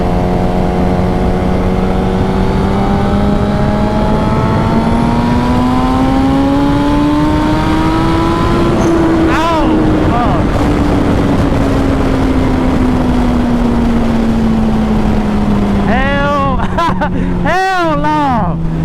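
A turbocharged Suzuki GSX-R 1000 motorcycle accelerates hard, its engine note climbing steadily through the gears with a loud, close, continuous roar, and excited voices break in near the end.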